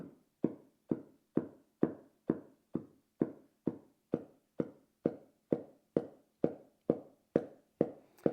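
Steady metronome clicks tick at an even pace, about two per second, crisp and fairly quiet with nothing else in the background.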